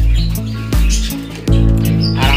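Pet birds chirp in a cage, loud close tweets that repeat in quick, overlapping bursts, with some sharper higher calls mixed in.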